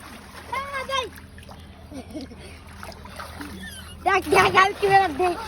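Someone dives into water to bathe in winter, making a single short splash amid several people's lively talk and calls.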